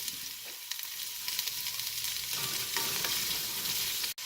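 Onions and peppers saute in a pan, a continuous close crackling sizzle with scattered light pops and a stir or two, no one talking.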